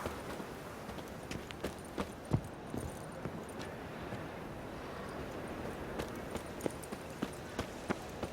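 Roach, a horse in The Witcher 3, galloping with a steady run of soft hoof clops over a low ambient bed, fairly quiet, with a few sharper hoof hits.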